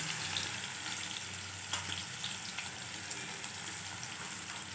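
Cumin, mustard seeds, garlic and onion sizzle in hot oil for a home-style vegetable bhaji, a soft, even crackling hiss heard close with light stirring and no talk.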